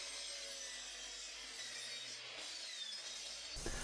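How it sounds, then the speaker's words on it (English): Table saw or miter saw cutting through a wooden workstation base, a steady, loud, continuous sawing roar that holds for several seconds before a brief heavier burst near the end, with no talking. "Now it's back over to the table saw and the miter saw to cut the base to shape."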